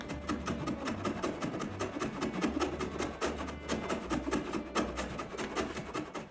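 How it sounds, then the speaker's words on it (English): Hand rasping and filing of notches in a wooden batten on a boat build, a steady run of rough scraping strokes, close and continuous with no talking. "I have to iteratively shape and bevel the notches"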